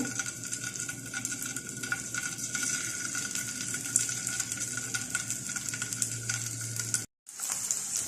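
Continuous crackling sizzle of butter garlic chicken pieces frying in hot oil in a frying pan, with occasional taps of a fork as pieces go in, broken by a brief silent cut.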